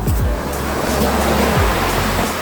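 Ocean waves break at the shore, a loud, close, continuous roar of surf with wind rumble and no voices.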